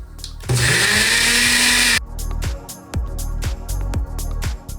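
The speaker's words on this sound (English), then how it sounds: "all we gotta do is just throw this on here and we just run a quick smoothie cycle" Ninja BlendBOSS blender on a smoothie cycle, a loud close motor whine for a couple of seconds, then rhythmic pulsing bursts with brief pauses between them.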